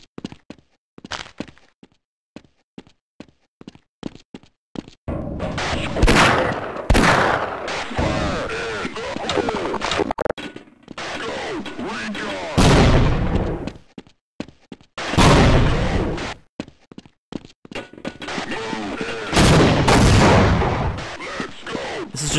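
Grenades explode repeatedly in a Half-Life firefight, heavy booming blasts in loud irregular bursts separated by short quieter gaps with clicks and thuds.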